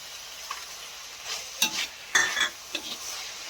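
Almonds and raisins are stirred into carrot halwa in a pan. A quiet background gives way to a few brief, close scraping and clinking strokes of a utensil against the pan. No one speaks.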